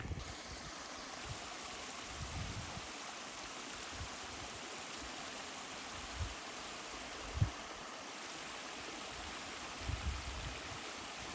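Creek water flowing steadily along a forest trail in Tioga State Forest by Pine Creek, a constant broadband rush with occasional faint knocks, with no talking.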